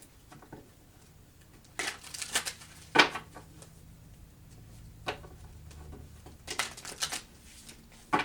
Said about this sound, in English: What I want to do is just pull a few more cards.